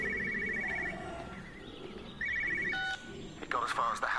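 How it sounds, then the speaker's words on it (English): A telephone rings from inside a car in the game Everybody's Gone to the Rapture, a repeated electronic trilling ring in short bursts over quiet ambience, with someone speaking near the end. "Where's that phone coming from? Inside the car?"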